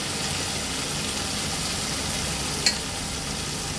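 Bottle gourd shukto is stir-fried in a pan with a steady, even sizzle and a single faint clink partway through.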